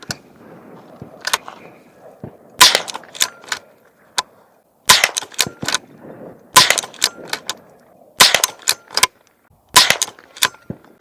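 Five suppressed .22 rimfire shots from CCI Clean ammunition through a Lantac M-Spec22S suppressor, each a sharp close crack with a faint impact after it, spaced a second or two apart amid a quiet outdoor range.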